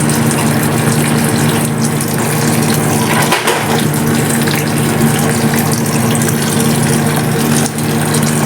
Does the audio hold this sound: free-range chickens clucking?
no